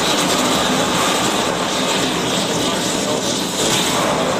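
A spit valve that has been relit, now angled down and to the right, burns with a loud, steady, unbroken roar that holds at full strength throughout.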